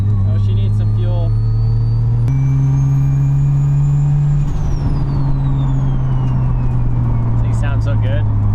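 A MK3 Toyota Supra with a 1JZ turbo engine and new downpipe drones loudly from inside the cabin, its steady engine tone stepping up through the gears with a turbo whine rising and falling.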